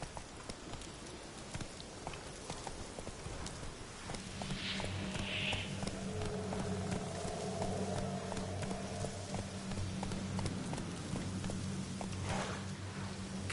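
A horse's hooves drum in a quick continuous gallop in The Witcher 3, fairly faint and even throughout, with a low droning tone joining the background partway through.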